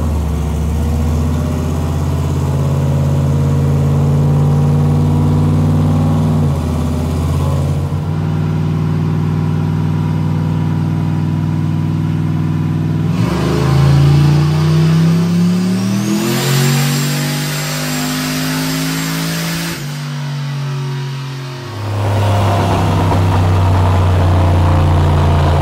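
Turbocharged 4.8L LS V8 in a Ford Crown Victoria revving hard on a dyno at 16 psi of boost, climbing in pitch through a long pull, dropping and surging again, loud and close with no talking.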